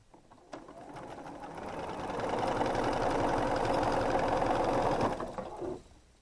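A sewing machine stitching quilt pieces runs strangely, whirring steadily for several seconds with a rough, rattling knock before winding down and stopping, close and moderately loud.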